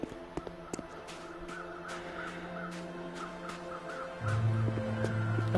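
Birds calling in a snowy wilderness survival game, repeated caws and squawks against a steady ambient hum, with a low drone rising near the end; no talking.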